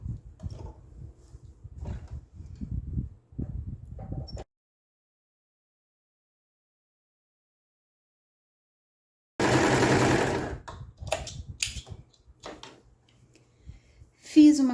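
A sewing machine stitches the side seam of a small fabric bag for a children's five-stones game in two loud, close bursts of rapid whirring, separated by a long silent pause, with softer handling noises around them.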